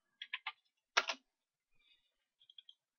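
Short bursts of keystrokes on a computer keyboard as a folder name is typed, a few quick clicks, a pause, then a firmer clack and a few lighter taps, close and quiet.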